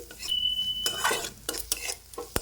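Garlic is stirred in a pan over a low flame for cabbage kofta, with quick scraping strokes over a faint sizzle, close and distinct, in short bursts with no talking.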